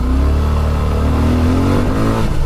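A Suzuki Gixxer motorcycle on a test ride at a Gixxer Pitstop 2026 event revs loudly up close. Its engine note climbs and wavers in steady harmonic sweeps with no talk.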